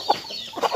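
Yellow white-tailed chickens cluck in a few short, soft calls close by, with a quiet pause between the first cluck and the next pair.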